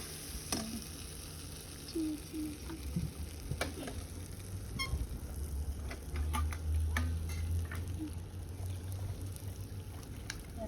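Shrimp and kharkol stems sauté in a pan with a steady sizzling hiss, punctuated by occasional ticks and clinks of stirring, swelling louder toward the end.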